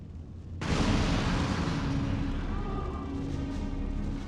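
A sudden explosion in a Resident Evil 3 cutscene, a sharp blast followed by a long, loud rumbling roar that slowly tapers off.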